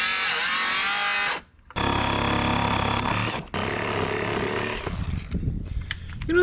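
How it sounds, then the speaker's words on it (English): Small, underpowered reciprocating saw cutting wood on a wooden boat under restoration, a steady buzzing cut lasting over a second at a time with brief pauses between strokes, close and loud. "You know, it's not a bad little saw, but when you're used to a real recip, this is pretty anemic."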